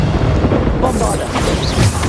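In Hogwarts Legacy, the Bombarda explosion spell bursts with a deep rumbling boom, loud and sustained over busy battle sounds, with a voice audible in the background.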